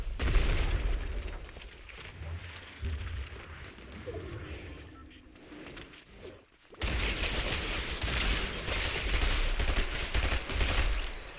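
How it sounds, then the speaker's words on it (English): Grenade explosions and weapon fire in a Fortnite match, a steady rumble of blasts and pops that eases briefly before a loud, dense burst returns and carries on to the end. "Ow, that's grenades."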